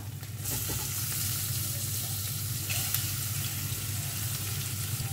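Chopped onions sizzle steadily in hot oil in a pan, a continuous dense frying hiss close by with faint clinks, no talking.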